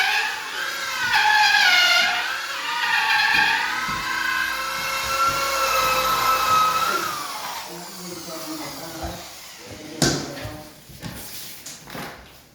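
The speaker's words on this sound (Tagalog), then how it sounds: "Grinder natin." A power grinder whines at shifting pitch during renovation of a bungalow house, loud and close at first, then winding down into clattering and knocks as voices speak in the background.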